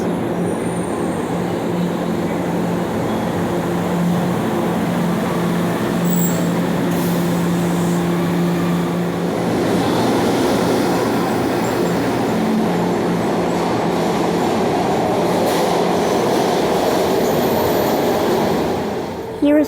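A SEPTA train running through a subway tunnel shared with trolleys, a loud sustained rumble and rattle of wheels on track with a droning motor hum and brief squeals, continuous and close throughout.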